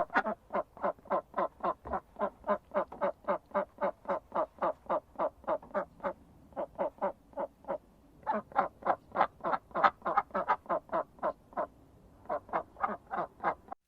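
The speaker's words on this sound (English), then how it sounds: "duck," A duck quacks over and over in fast, steady bursts, loud and close, with short pauses between runs of calls and no talking.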